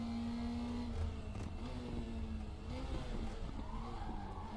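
A small NSU TTS race car's engine revs hard on throttle with steady drone and tire skid/squeal while cornering with lift-off oversteer, loud and continuous throughout.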